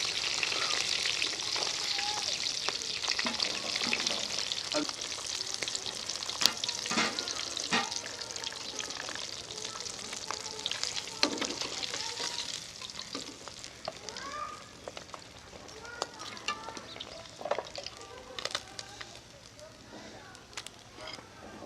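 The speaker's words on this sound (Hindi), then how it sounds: "सारी मछली को मैंने फ्राई कर लिया है।" Fish pieces frying in oil in a pan for fish karahi: a faint, continuous sizzle scattered with small crackles and pops, lasting throughout.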